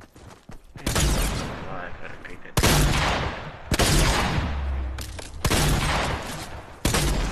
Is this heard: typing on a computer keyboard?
no